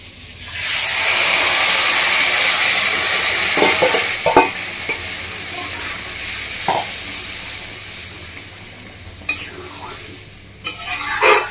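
Moong dal poured into a pan of frying rohu (rui) fish head, loud sizzling hiss at first, then steady stirring with a few sharp scrapes and clinks of the spoon against the pan.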